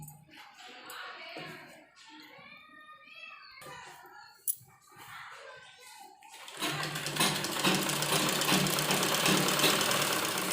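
A sewing machine stitching underwear fabric starts up after a stretch of a person talking, then runs alone as a steady, dense mechanical whirr to the end.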